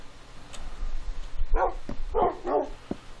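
A dog in the Minecraft video game gives several short barks and yips close by, spaced irregularly over a quiet background.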